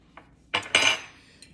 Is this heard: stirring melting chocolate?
yes